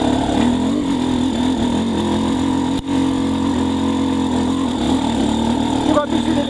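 A motorcycle engine fitted with a Keihin PWK Airstriker 36S carburetor and JD jetting kit runs at a steady mid-pitched drone, close and loud throughout, with one brief dip partway through.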